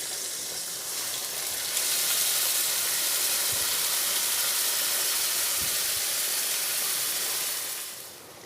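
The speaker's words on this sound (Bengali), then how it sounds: "এবার এই মশলাটা ওই পেঁয়াজের মধ্যে দিয়ে দেব।" Spice paste of coriander and cumin powder hits frying onions for a Bengali doi katla fish curry, bursting into a loud, steady sizzle that holds for several seconds before easing slightly at the end.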